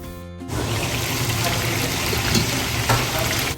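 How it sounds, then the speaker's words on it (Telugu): Chicken frying in a pan, a loud steady sizzle and crackle of oil that starts abruptly after a short tonal hum and continues evenly with occasional stirring sounds. "సో ఇక్కడ చికెన్ కూడా ఒక సైడ్ మంచిగా ఫ్రై అయిపోయింది"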